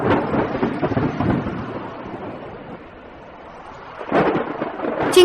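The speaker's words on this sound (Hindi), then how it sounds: "उनके लिए यह पहली बारिश थी" Thunder rumbles deeply in bursts against a background of steady rain, with a fresh crack of thunder building near the end.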